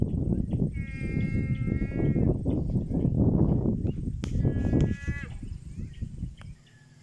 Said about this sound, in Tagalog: Kaya nagdala siya rito ng karnero para dito padamihin.